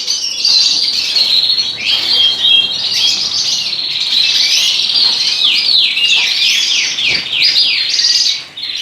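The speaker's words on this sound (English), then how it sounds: "let you see what's been happening with the native birds, British birds here, David's Bird Room 2023" Many native British birds in an indoor bird room chirp and sing constantly, a busy overlapping chorus of bright twitters and trills, loud and close, with no pause.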